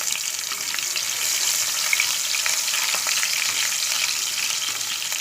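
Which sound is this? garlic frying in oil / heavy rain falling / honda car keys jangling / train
garlic frying in oil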